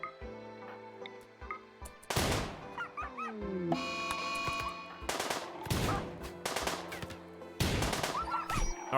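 Auto pistol gunfire in RimWorld: several loud, sharp bursts of rapid shots cut through a busy game scene, with dog-like barks and yips mixed in between the volleys.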